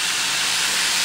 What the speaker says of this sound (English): have my pork loin just frying right now.